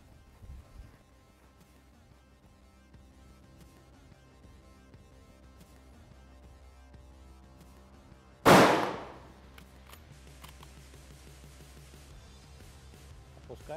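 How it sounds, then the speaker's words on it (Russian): One sharp, loud rifle shot fired offhand during a shooting drill, cracking out alone after a long quiet stretch and ringing briefly before fading. "сделать в него три выстрела с рук"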